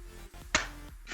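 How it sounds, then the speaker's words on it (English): A single sharp hand clap for a recording sync check snaps out once, close and brief, against a quiet room hum. "Clap check."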